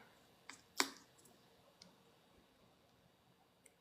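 Sparse, faint clicks of typing on a keyboard, a few isolated keystrokes spread out with one sharper tap, in an otherwise quiet room.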